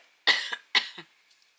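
Two close, sharp coughs in quick succession, each trailing off with a short rasp, followed by quiet.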